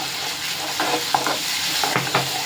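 Onion, ginger and turmeric stirred and frying in a pan, with a steady close sizzle and a few scraping stir strokes.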